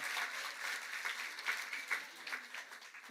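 A church congregation applauds steadily for a few seconds, a dense wash of hand claps with no voices over it.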